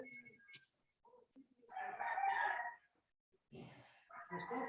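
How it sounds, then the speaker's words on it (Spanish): A rooster crows loudly, one long drawn-out cock-a-doodle-doo and the start of another, heard amid fragments of nearby talk during an online class. "ese gallo sí que está bien despierto"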